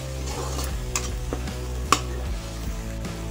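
Tomato puree frying in a pan while a spoon stirs it, with a steady close sizzle and irregular scraping and clinking strokes against the pan, alone without talk.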